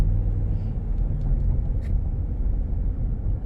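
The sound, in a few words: Ram 1500 Big Horn pickup truck driving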